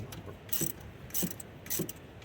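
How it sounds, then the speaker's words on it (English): A small quarter-inch drive ratchet spinning a bolt on a Dodge Ram 3500 engine while the throttle body and intake come off, three quick bursts of fine clicking, close but fairly quiet. "I'm using this little 4-inch drive ratchet just to run it up and down"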